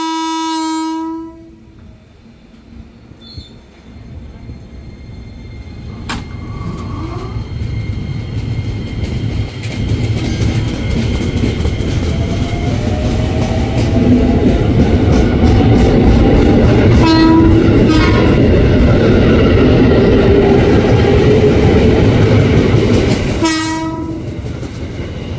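A KRL commuter train passes at the upper level of Manggarai station, opening with a loud horn blast, then a building, sustained rumble and clatter of wheels, with another sharp horn near the end.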